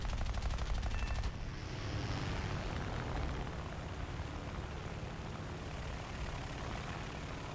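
The machine guns of an F4F-3 Wildcat fighter fire in a combat flight game in a loud, steady, rapid burst over the first second. Continuous aircraft engine roar fills the rest of the clip.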